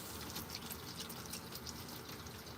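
Tap water running to rinse sweet peppers in a small van kitchen, a steady faint splashing hiss throughout, continuous and unbroken.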